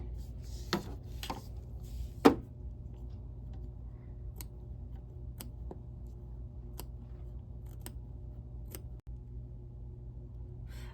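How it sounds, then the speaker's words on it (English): Scissors snip quilt fabric away from appliqué leaves in a quiet room, a few sharp isolated cuts spaced out over a low steady background hum. "now we're just gonna trim the fabric away from both leaves"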